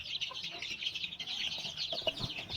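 Desi chicken chicks about 22 days old, a soft continuous stream of high peeping chirps from a group nearby, with faint clucks and light scuffling underneath.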